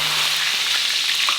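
Food fries in a pan of hot oil during a home cooking session in Haiti. The sizzle is loud, close and continuous, with no voices over it.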